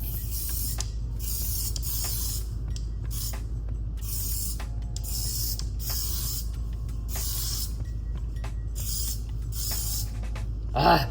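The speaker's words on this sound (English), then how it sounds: "I'm gonna hit it with just a little bit of finishing spray" Repeated short hissing bursts of an aerosol hair finishing spray, about a dozen quick puffs in an uneven rhythm, close by with a faint low hum underneath.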